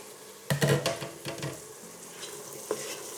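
Lamb and potato curry cooking in a pan on low heat gives soft sizzling with a few stirring scrapes and clinks, loudest early on, then a quieter simmering hiss.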